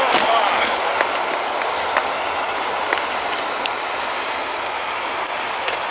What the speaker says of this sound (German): Schon der nächste Zug hier oben.